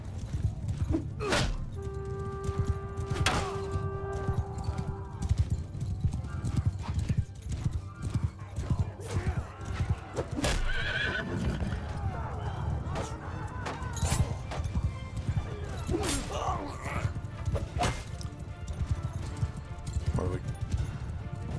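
Many horses gallop in Mount & Blade II: Bannerlord with rapid, overlapping hoofbeats, punctuated by a neigh early on and occasional heavy thuds and clashes, loud and close throughout.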